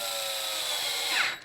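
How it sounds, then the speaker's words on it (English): A power drill on a medium torque setting drives screws into an AR-15 M-LOK handguard, giving a steady close-up whine that rises briefly near the end before cutting off. "Now we get to use our drill"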